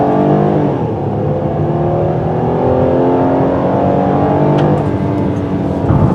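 A 2016 Kia Sedona van's V6 engine accelerates from inside the cabin, a steady, loud drone climbing smoothly in pitch for about six seconds with no talk over it.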